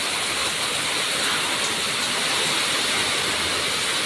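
Heavy typhoon rain pours down steadily in Laguna during Typhoon Kristine, a dense, loud, unbroken hiss of falling water with no voices.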